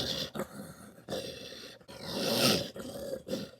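A voice imitating a tiger growl, a few rough rumbling bursts separated by short pauses, with one longer swelling growl in the middle, close and fairly quiet.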